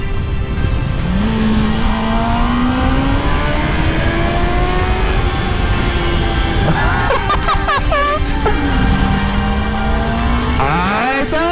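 A motorcycle engine revs on a winding road in Sardinia, loud and close, rising and falling in pitch as it accelerates and shifts through the gears, with steady wind rush underneath.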